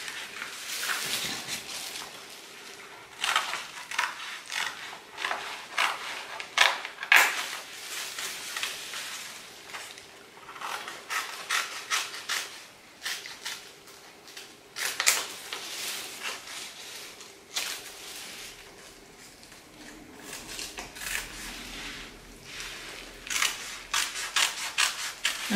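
Scissors cut pieces for a handmade crown, a close, quiet run of irregular snips and papery rubbing with short pauses between bursts, no one talking.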